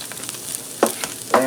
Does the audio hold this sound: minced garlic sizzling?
yes